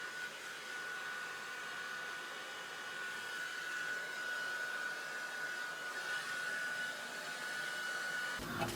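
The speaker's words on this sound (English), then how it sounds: "I'm gonna blow dry quickly just before I do anything crazy." A hair dryer blows steadily on natural hair, a constant airy whoosh with a thin high whine, moderately close and unbroken, cutting off abruptly at the end.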